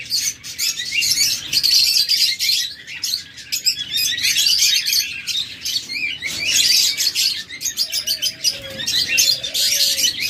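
A dense chorus of caged shop birds, among them cockatiels, lovebirds, budgerigars and doves, chirps and tweets continuously up close, with a few short whistled calls breaking through near the end.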